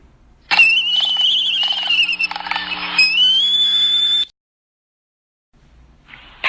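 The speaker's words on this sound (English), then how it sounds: "Albatross." An albatross gives a long, loud, shrill wailing call with a wavering, squealing pitch, held for nearly four seconds before it cuts off into silence, followed by a short faint sound.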